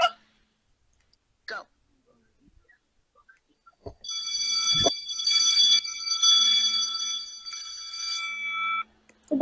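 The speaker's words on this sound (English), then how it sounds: "The bell rings." An electric school bell rings with a bright, buzzing metallic tone for about four seconds. Faint clicks and brief sounds come before it, and a single voice is heard briefly.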